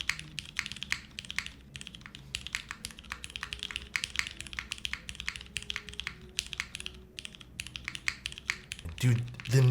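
Fast typing on a mechanical keyboard fitted with Nixie switches gives a dense run of crisp, close clicks and clacks. A voice breaks in briefly near the end.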